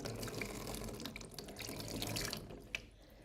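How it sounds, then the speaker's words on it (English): Tap water runs over a hand being rinsed at a sink, a steady close splashing with light drips and small spatters, no voices. "And now I rinse this off of my hand."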